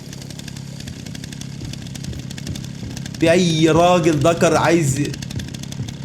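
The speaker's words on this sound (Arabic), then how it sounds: "المنشار في حتة تانية." A chainsaw in the video game Resident Evil Requiem drones with a steady low buzz throughout, while a voice talks loudly over it in the middle stretch.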